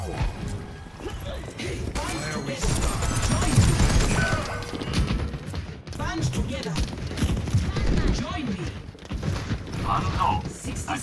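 Overwatch 2 gunfire on the Junkertown map rattles in quick bursts with impacts and crashes, mid-distance under a talking voice.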